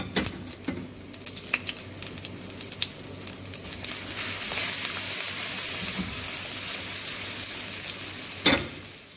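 Chopped garlic sizzles in olive oil in a pan, a steady frying hiss with occasional pops and a sharper crackle near the end, close and moderately loud with no talking.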